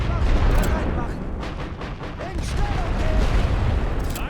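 Artillery barrage in the WWI strategy game The Great War: Western Front, with a continuous roar of overlapping shell bursts and distant booms in a dense, rolling rhythm throughout.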